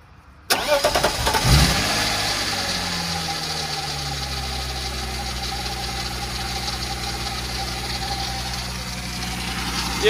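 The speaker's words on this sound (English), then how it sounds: "that power steering pump's not super happy" BMW E36 engine cranking and catching abruptly, then settling into a steady, loud idle with a persistent whine from a struggling power steering pump running over the engine note.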